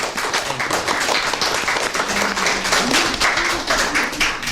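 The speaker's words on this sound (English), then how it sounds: "can we just give a round of applause to these wonderful people" A church audience gives a round of applause for its hosts, dense sustained clapping from many hands filling the room at steady strength, with faint voices mixed in.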